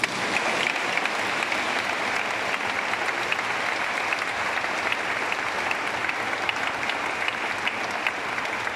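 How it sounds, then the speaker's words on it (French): Crowd applauding at the Saint-Louis festival: sustained, even clapping from a large gathering, loud and continuous for nearly nine seconds with no speech over it. "Vous pouvez applaudir."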